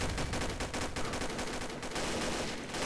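Gunfire in the shooter game Combat Arms with an MP5 or Anaconda: a rapid, steady burst of loud automatic shots in a dense rhythm, close and continuous for a few seconds.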